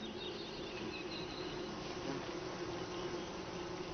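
European honey bees swarm around a hive in Japan, a steady, dense buzz of many wings that holds an even level throughout with no voices.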